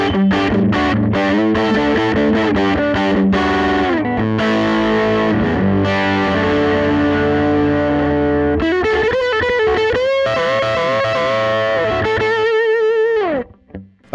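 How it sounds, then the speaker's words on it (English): A Teye electric guitar plays heavily distorted rock riffs and sustained chords through a big amp stack, loud and close without speech, before cutting off abruptly at the end. "you think that you can get those big rock tones of the famous Les Paul into a big stack"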